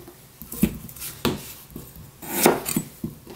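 Knife chopping radish into thick julienne strips about 0.5 cm wide for a Korean bossam radish kimchi, giving a handful of sharp, close cuts against a board at uneven intervals with no talking.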